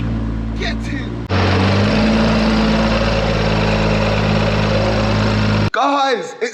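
A BMW M140i conversion built from a 114i fires up with a sudden loud rumble and settles into a steady, close idle, with excited voices over the start and a brief cut before a short burst of chatter.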